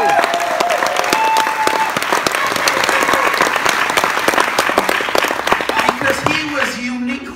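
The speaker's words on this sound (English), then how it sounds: "Give him a round of applause." A room full of people at a company summit breaks into sustained applause, dense loud clapping holding steady throughout and tapering slightly at the very end, with scattered voices mixed in.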